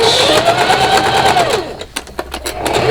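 Domestic sewing machine stitching a fabric seam for a pair of pants, running steadily with a whirring motor hum, then breaking into short stop-start bursts as it reverses to back stitch.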